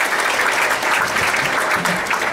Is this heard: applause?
yes